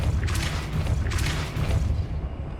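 A Depulso spell impact in Hogwarts Legacy lands as a heavy, booming blast with two loud bursts close together, over a dense low rumble that fades near the end.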